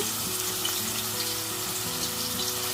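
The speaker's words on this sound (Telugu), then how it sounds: "నూనె బాగా కాగిపోయిందండి ఫస్ట్ ఉల్లిపాయలు వేసేసుకున్నాము" Onions sizzle in well-heated oil at the start of a mutton curry, a dense, even crackle of close frying, with a low steady hum running beneath it.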